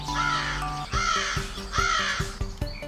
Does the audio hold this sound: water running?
no